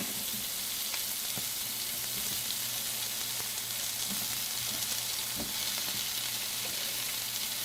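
Onions sizzle in olive oil in a pan, giving a soft, steady frying hiss with a few faint clicks of stirring, quiet and continuous.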